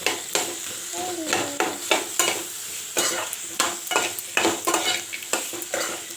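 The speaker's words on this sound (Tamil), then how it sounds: "எண்ணெய் கடுகு வச்சு தாளிச்சு ரொம்ப வதக்க வேண்டாம், சும்மா லைட்டாக வதக்கணும் போதும்." Onions sautéing lightly in oil with mustard seeds for a tempering, with repeated stirring scrapes and soft sizzling in a pan, close and steady, no talking.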